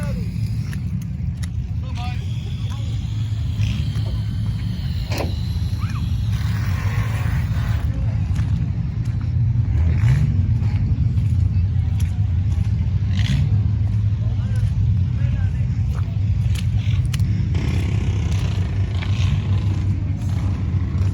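Demolition derby cars rolling in at a county derby in Carroll County, a steady low engine rumble and idling drone throughout, with scattered clanks and people talking nearby.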